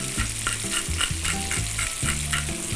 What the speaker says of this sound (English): we're gonna just kind of cook those shallots down till they're softened